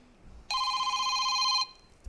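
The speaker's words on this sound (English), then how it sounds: "you have to answer the phone" A telephone bell rings in one steady, loud burst of a bit over a second, bright and sustained, then cuts off into quiet room tone.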